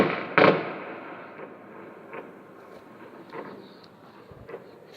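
New Year fireworks, one loud close burst at the start followed by scattered fainter pops and crackles over a dull background rumble, with no talking.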